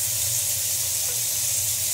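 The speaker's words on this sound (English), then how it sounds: "Fill it up with water." Tap water pours steadily into a container resting on a scale, a continuous, loud, broadband rush with no pauses.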